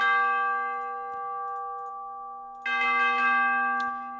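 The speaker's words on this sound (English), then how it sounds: "if you're gonna do some crazy bell part, I think these will do the job" Sampled orchestral bells from the Symphony Series Percussion library ring in sustained, bright metallic tones, with a fresh cluster of strikes entering loudly partway through and layering over the lingering decay.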